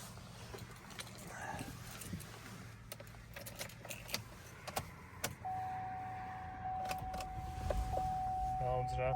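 The panoramic sunroof motor on a Chevrolet Traverse gives a thin, steady electric whine in its second half. Faint clicks, knocks and wind noise sit around it.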